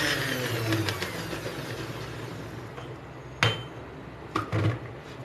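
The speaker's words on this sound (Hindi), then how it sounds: "अब मैं इसे उस वक्त तक ये ग्राइंड करूँगी जब तक कि आलू इसमें अच्छी तरह से ग्राइंड ना हो जाए।" An electric kitchen grinder whirs as it blends potatoes into a mayo garlic sauce, a steady close motor drone that eases off, broken by a few sharp clinks and knocks near the end.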